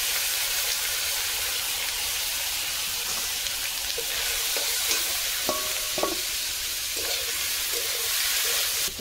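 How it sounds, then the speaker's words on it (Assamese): Ginger and chopped taro stems frying in a pan for an Assamese village dish, a continuous close sizzle and hiss with a few soft scrapes of stirring partway through. "এতিয়া অকল মই ভাজিয়ে ল'ম"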